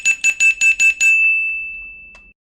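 A small bell is struck five times in quick, even succession, then one long, clear ringing tone lingers and fades, loud and close with no voices.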